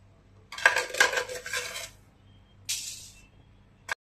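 A spoon stirs sugar into tea in a metal pot, close by, with no talk: a scraping, clinking burst of about a second and a half, a shorter clatter after a pause, then one final sharp tap.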